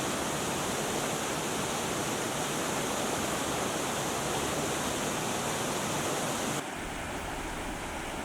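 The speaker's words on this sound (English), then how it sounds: "this is the top of the waterfall from the viewing platform." Multnomah Falls heard from the top viewing platform: a constant, loud rushing roar of falling water, broadband and unbroken, shifting slightly in tone near the end, with no voices.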